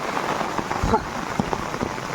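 Steady rain falls across open hillside grazing land in Konkan, a broad even hiss with a few louder drop impacts and faint voices now and then, recorded close.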